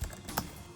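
Brief typing on the keyboard of a 2008 MacBook, a couple of soft key clicks heard close up in under a second, with no talk.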